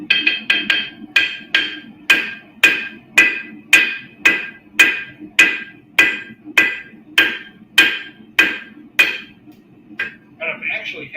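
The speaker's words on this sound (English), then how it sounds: "I'm not moving the hammer around to hit things." A hammer rings against folded Damascus steel on an anvil in about twenty sharp, evenly spaced blows, bright metallic strikes with brief ringing decay, loud and close, ending with a lighter scrape.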